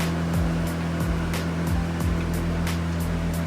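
Choppy sea sloshing and slapping against a dive boat off Anilao, a loud, continuous wash with a steady engine hum underneath and repeated splashy surges.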